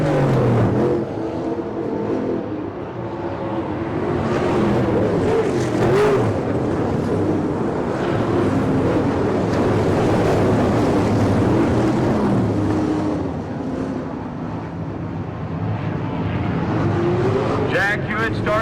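410 non-wing sprint cars race around a dirt oval, engines roaring loudly and continuously as cars pass and accelerate, with a race announcer talking over the noise throughout.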